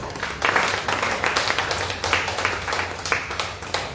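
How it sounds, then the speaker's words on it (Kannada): Applause for a kirtan performer at a literary talk event, a dense, even patter of many hands clapping for several seconds in a hall. "ಒಂದು ಜೋರಾದ ಚಪ್ಪಾಳೆ"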